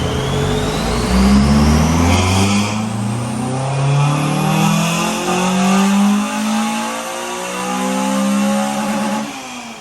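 A Honda car engine revs hard at a car meet, climbing loudly through the gears in rising sweeps, close and dominant with no talk over it.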